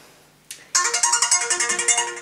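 A phone's message notification tone rings out alone, loud and close: a brief chime, then a rapid run of bright, repeating electronic pulses.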